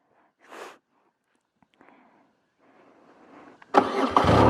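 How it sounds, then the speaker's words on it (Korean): A BMW R12 nineT motorcycle fires up after some quiet handling noises, its engine catching abruptly and settling into a loud, close idle. "기분이 아주 좋아 시동 걸 때"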